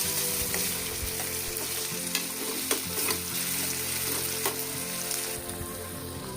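Ginger garlic paste frying and being stirred in a pan for a mango prawn curry, a loud continuous sizzle with repeated scraping strokes and occasional utensil knocks.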